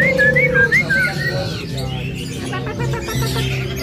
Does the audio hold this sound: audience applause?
no